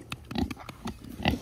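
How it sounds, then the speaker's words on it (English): A farm pig gives a series of short, close grunts and oinks in an uneven rhythm, several snorts in quick succession with brief pauses between them. "I never knew I'd love pigs this much."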